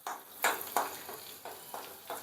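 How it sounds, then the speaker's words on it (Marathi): Garlic tempering crackles faintly in a pan for Vidarbha-style varanphal, a soft continuous sizzle broken by several short scraping bursts as it is stirred, with no one talking. "लसणाची छान फोडणी आणि वाफ वा"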